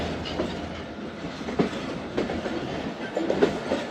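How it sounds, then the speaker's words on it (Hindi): The Khyber Mail train pulls into Lodhran Junction in the evening, its wheels clacking in an uneven rhythm over a constant rumble, close and moderately loud, with no voices. "शाम के 5:31 पर लोधरा जंक्शन पहुंची है ट्रेन।"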